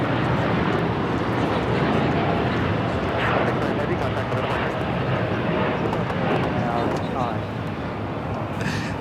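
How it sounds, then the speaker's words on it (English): A Japan Airlines Boeing 787-9 Dreamliner taking off at Los Angeles airport makes a steady, fairly loud engine roar, while a person talks over it the whole time. "This is Japan Airlines Flight 69 taking off to Osaka on the 787-9 Dreamliner."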